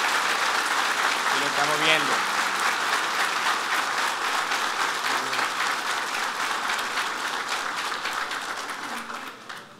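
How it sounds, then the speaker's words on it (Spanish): An audience at a book launch in Moca gives a strong, sustained round of applause, dense clapping that fills the room and slowly tapers near the end, with someone speaking over the early part. "Por eso yo quisiera que saludemos desde aquí con un fuerte aplauso a los que nos están viendo en pantalla"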